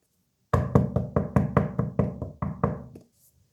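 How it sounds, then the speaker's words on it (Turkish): Ten quick, firm knocks on a wooden door in an even rhythm, close and loud, followed by silence. "kapı çalıyor"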